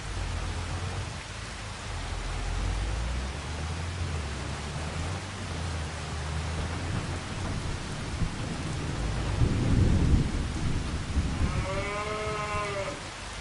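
Steady rain hiss with low rumbling thunder throughout in the video game Farming Simulator 25, a heavier rumble near the end, and a cow lowing briefly at the close.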